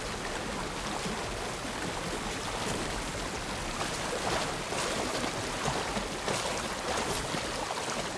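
Steady, dense rushing water of a waterfall in the video game No Rest For The Wicked, a continuous broadband roar with no pauses.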